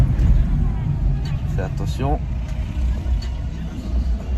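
Renault Clio 4 car engine and road rumble from inside the cabin, steady and moderately loud throughout, with a person speaking briefly over it.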